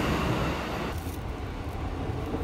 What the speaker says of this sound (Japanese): 6本目は回送電車ですね